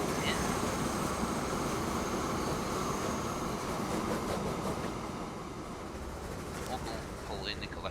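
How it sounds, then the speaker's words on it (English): Train pulling into a station in the video game Transport Fever 2, a steady rumbling rail drone with faint squeals, continuous and moderately quiet throughout. "This train will wait patiently for this one to pull in."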